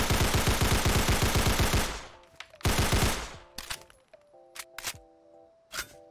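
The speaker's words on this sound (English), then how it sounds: "let's check out the animations for the basic version of the Sten, starting with, of course, the firing and reloading" Sten submachine gun in a Fallout 4 mod fires a loud, rapid automatic burst of about two seconds, then reload clicks and metallic clacks follow in separate handling sounds, with no talk.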